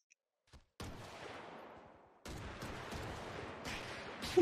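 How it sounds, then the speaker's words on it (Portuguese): A few loud gunshot bursts in Grand Theft Auto roleplay, each with a long rumbling decay, spaced a second or so apart with no voices. "E o cara errou todos os tiros nele de lá."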